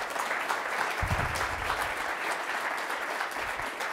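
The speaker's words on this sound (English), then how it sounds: "I think this is a reason to give applause to our community." An audience at a conference on wartime communications in Ukraine applauds, a steady wash of many hands clapping that holds for several seconds at an even level.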